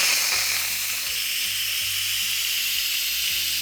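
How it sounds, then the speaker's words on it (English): Steam rushing out of a pressure cooker's release valve after cooking chicken, a steady close hiss that holds evenly for several seconds before cutting off abruptly at the end. "Let me let the rest of the steam out."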